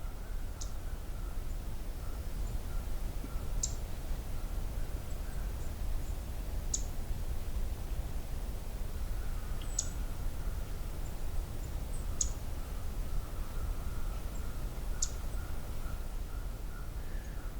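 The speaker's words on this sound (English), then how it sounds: "it's black-throated green that's actually doing the vocalizing" A male black-throated green warbler gives a slow series of about seven sharp, high chip notes spaced a couple of seconds apart, faint against a steady low background hiss.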